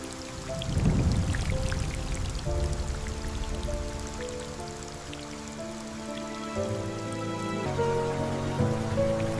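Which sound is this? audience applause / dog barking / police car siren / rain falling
rain falling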